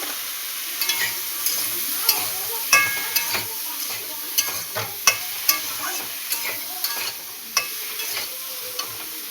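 Curry with turmeric being sautéed in a pan: a steady oily sizzle with repeated sharp clicks and scrapes of a spoon stirring against the pan, close and continuous, with no talking.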